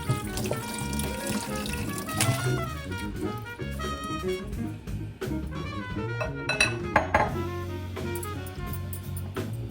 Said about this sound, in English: What we're about to do now is drain the jackfruit.